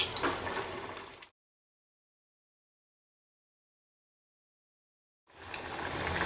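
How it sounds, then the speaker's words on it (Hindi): Kebabs deep-fry in hot oil, giving a steady, dense hiss and crackle. It cuts out abruptly into silence and then resumes just as loud. "तेल गर्म हो गया है, कबाब फ्राई कर लेंगे।"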